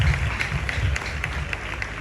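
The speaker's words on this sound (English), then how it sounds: "Please, let's give her a round of applause" A crowd applauds at a school anniversary celebration and speech and prize giving day, a brief, dense burst of clapping with a low rumble beneath it.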